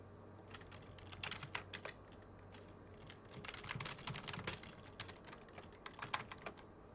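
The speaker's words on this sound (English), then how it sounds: "Wow, my typing is crap today." Steady typing on a computer keyboard, a dense run of quick clicky keystrokes with short pauses, close and fairly quiet, with no talk over it.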